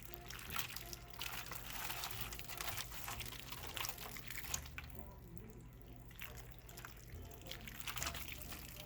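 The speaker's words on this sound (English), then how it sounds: "I'm going to just pour it all on there." Glaze is poured over a ham at home, a soft continuous trickling and dribbling of thick liquid with faint drips, steady and close under quiet room noise.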